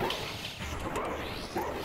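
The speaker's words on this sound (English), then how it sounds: "Oh, the dogs are coming back." Dogs bark and yip in the dark fantasy dungeon game Lunacid, a few short bursts of barking over a dense, noisy backdrop of game sound.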